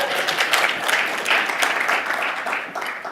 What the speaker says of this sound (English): Go ahead and applaud for that if you'd like.